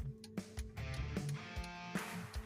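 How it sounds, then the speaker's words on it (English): Turn signal blinker of a 2016 Honda Odyssey ticking in a steady rhythm, several sharp clicks about every half second, faint and heard close inside the cabin over a low hum. "Does your blinker sound like this?"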